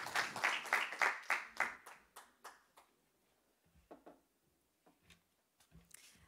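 A small group at a church gathering claps in a brisk burst that quickly thins out, leaving a few scattered, fainter claps trailing off into near quiet.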